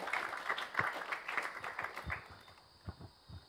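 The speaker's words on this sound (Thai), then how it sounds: "ขอเสียงปรบมือให้พี่แม็กค่ะ" A small group claps to welcome a guest speaker at a participants' welcoming ceremony in Thailand. The applause is modest and fairly quiet, with uneven claps that thin out into a few scattered last ones.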